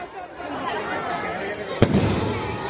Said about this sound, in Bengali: এদিকে শুরু হয়ে গেছে আতশবাজি প্রদর্শন।